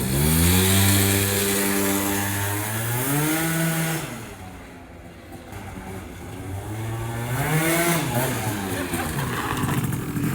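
A Yamaha BWS scooter fitted with a Stage 6 70cc cylinder kit revs hard and close, its buzzing two-stroke whine climbing in pitch, dropping off briefly, then winding up again.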